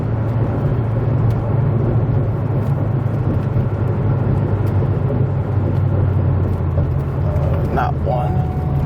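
A manual S197 Ford Mustang GT engine drones steadily from inside the car as it accelerates, a constant low rumble throughout with occasional voices over it.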